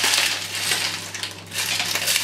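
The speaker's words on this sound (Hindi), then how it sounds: "इसे अच्छी तरह ग्राइंड कर लें कि आपको आवाज़ आएगी कि जब आइस कम्प्लीटली क्रश हो जाती है" Blender grinding ice together with ice cream for a tropical milkshake: a dense, loud churning crunch with a steady motor hum underneath, continuous throughout.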